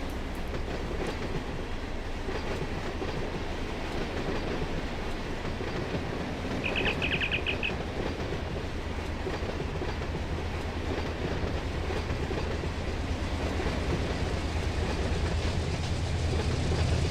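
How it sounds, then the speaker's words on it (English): Freight train with radio-controlled DPU helper locomotives rolling past on Cajon Pass in a Run 8 train simulator, a steady rumbling rail drone with faint clatter and a brief high squeal, heard alone without talk. "those DPUs are already working, as you could hear when they're running by our position"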